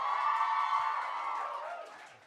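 An audience at a Maze Runner: The Scorch Trials cast event keeps up a dense wash of applause and cheering that fades gradually toward the end, with talk mixed in.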